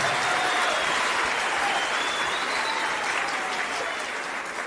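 A large church congregation applauds steadily and loudly for several seconds, the clapping dense and continuous, tapering only slightly toward the end.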